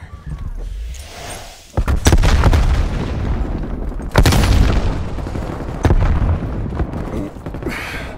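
A frag grenade goes off in a Call of Duty multiplayer match. Several heavy booms and blasts hit in quick succession among gunfire, loud and close, with brief talk mixed in.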